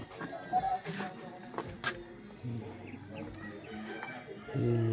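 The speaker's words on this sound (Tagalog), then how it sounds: "Ito yung alaga po naming manok sa 90 heads" A flock of white Leghorn chickens cluck in short, scattered bursts, close and fairly faint, with the occasional louder squawk and a low background hum.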